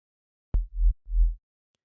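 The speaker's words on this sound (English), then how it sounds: "we're going to modulate the level with an LFO" A sine-wave sub bass from the Serum synthesizer with its level pulsed by an LFO, giving a short attack followed by two swelling, fading low throbs, solo and clean.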